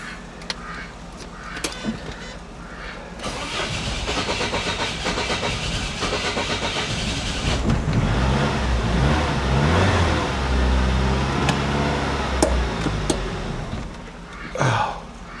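A Saab 900 Turbo with a starting fault cranks and fires up, its engine catching and revving roughly in a close, loud, continuous run with a few clicks and a brief voice near the end.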